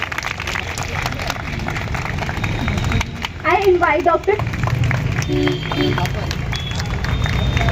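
Audience applause at a charitable trust event for disabled beneficiaries, a dense patter of clapping from a crowd continuing throughout, with a voice speaking over it and a brief burst of louder talk midway.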